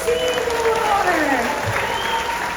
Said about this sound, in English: round of applause for Seymour!